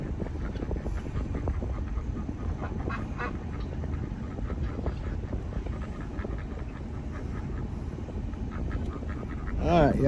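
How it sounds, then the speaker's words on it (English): Ducks on a farm give faint, scattered quacks over a rumbling outdoor background, with a louder burst of calls near the end. "See these ducks come out."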